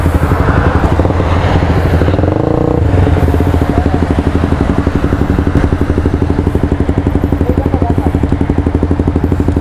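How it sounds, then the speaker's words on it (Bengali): Three bikes line up for a drag race: a CF Moto 300SR, a Suzuki GSX-R 150 and a modified Yamaha R15 V3. Their engines rev hard and buzz loudly in the foreground, with a brief thump and clatter near the start. "তিনটা বাইক সমানে সমানে নিয়ে তারপরে একটা টান হবে।"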